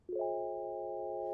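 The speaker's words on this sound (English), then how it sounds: "Very basic sound. It looks like if I turn off this, should probably be just like sine waves." A basic synthesizer patch of plain sine waves sounds one clean, sustained tone that stacks several steady harmonics, held for about a second before cutting off, with nothing else around it.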